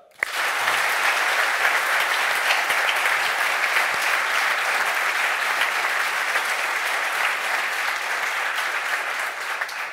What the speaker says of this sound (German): Bitte einen großen Applaus